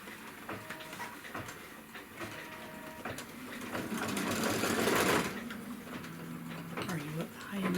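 A Kimberbell embroidery machine stitches registration marks directly onto stabilizer, a quiet rapid ticking hum that swells briefly, with a voice talking faintly over it.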